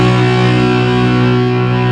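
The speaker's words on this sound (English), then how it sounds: "Now obviously I've got the distortion on my amp" A sustained two-note power chord on the sixth and fifth strings of an electric guitar played through amp distortion, loud, buzzing and ringing steadily without talking.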